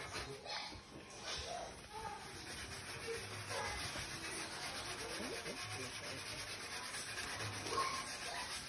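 Scrubbing a hot surface clean with Ajax cleaner makes a steady, close rubbing and scouring noise that runs the whole time, with faint voices in the background.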